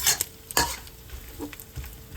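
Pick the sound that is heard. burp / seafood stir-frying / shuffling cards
seafood stir-frying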